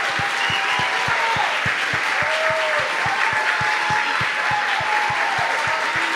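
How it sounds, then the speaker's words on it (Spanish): An audience at a year-end concert by a music and comedy school applauds teacher Gabriel Bedrosian. Dense, steady clapping runs for the whole stretch, mixed with a regular low thumping beat underneath. "quiero que le demos un fuerte aplauso"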